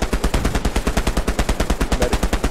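Rapid automatic gunfire in the World War II shooter Hell Let Loose, a steady rattling burst of shots repeating evenly at close range and loud throughout, with no voices over it.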